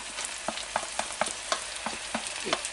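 Sliced onion and garlic frying in a pan, a steady close sizzle broken by regular scraping stirs roughly twice a second, with no voices.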